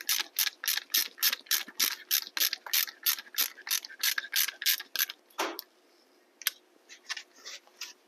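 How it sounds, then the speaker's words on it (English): Ratchet and socket tightening a foot peg on a Talaria electric motorcycle, a fast series of sharp clicking pawl strokes in quick bursts, close and crisp, followed by a pause and a few slower clicks. "And I get this nice and tight with a socket."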